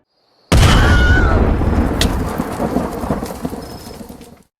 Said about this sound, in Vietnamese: tia sét của thanh kiếm đã vô tình làm kích nổ trái bom